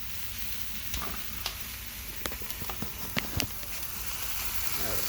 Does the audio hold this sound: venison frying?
yes